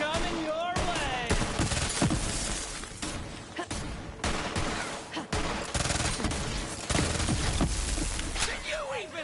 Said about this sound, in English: Shots coming your way!